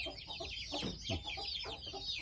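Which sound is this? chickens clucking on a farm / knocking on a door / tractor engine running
chickens clucking on a farm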